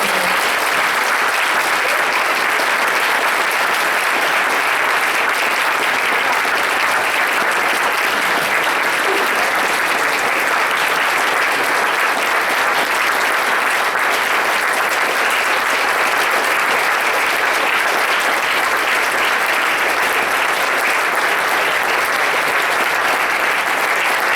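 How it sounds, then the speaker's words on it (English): Sustained, loud applause from a conference audience at closing remarks, a dense and unbroken wash of clapping that continues at a constant level for over twenty seconds. "huge round of applause for them"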